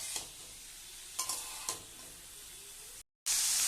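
Ash gourd pieces with salt and turmeric fry softly in a pan, and a spatula scrapes the pan in a few short strokes. The sound cuts out briefly near the end and then returns louder.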